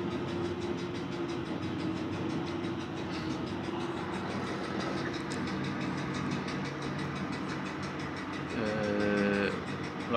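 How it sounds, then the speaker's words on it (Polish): EU07 electric locomotive in the MaSzyna train simulator accelerating, a steady mechanical drone with rising tonal hum and faint rail clatter, continuous and moderately loud, ending with a brief stepped tonal shift. "Lokomotywa nam się rozpędza."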